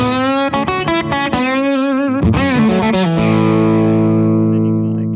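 Fender Vintera II Road Worn electric guitar played through a growly, mid-range overdriven tone, several strummed chords and bends ringing out into a long sustained chord, loud and close with no talking.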